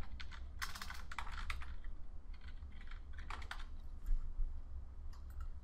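An email address typed on a computer keyboard: close, steady bursts of keystrokes with short pauses between groups, over a faint room hum.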